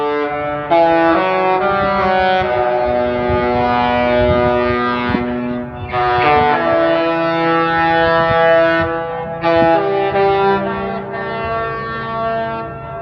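A powerful Princess Cruises ship horn sounds a series of long, melodic chord blasts in the Port of Los Angeles, loud and resonant, separated by short breaks and carrying with echo.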